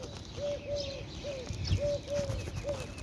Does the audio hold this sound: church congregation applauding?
no